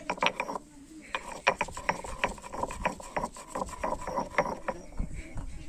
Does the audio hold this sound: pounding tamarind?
yes